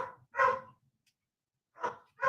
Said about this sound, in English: the dog always barks so loud when the doorbell rings.